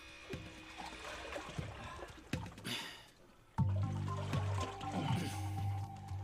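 Water sloshing and splashing in an old tunnel flooded with water and mud, irregular wet knocks and trickles up close, turning to heavier churning movement partway through.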